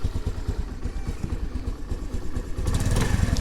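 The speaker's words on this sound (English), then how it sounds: "That low idle, though, is a little bit of a problem" A 2022 Honda Navi motorcycle idles low and uneven after a cold kickstart with the choke on, a close, steady small-engine putter with loose clatter that swells a little toward the end.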